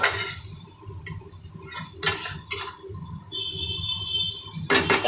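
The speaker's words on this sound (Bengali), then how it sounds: "ম্যাজিক মশলাটা অল্প দিয়ে ভালো করে নাড়িয়ে নিচ্ছি" A metal spoon scrapes and clinks against a cooking pan while magic masala spices are stirred in, with repeated irregular clanks and scrapes up close, loud and with no talking.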